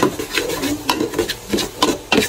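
Garlic is stirred in a pot, with a utensil scraping and rasping in repeated strokes, close and fairly loud, with a soft frying hiss underneath.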